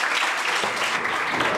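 Audience at a student lie-detector test event breaks into steady, dense applause, filling the short moment with continuous clapping and no talk.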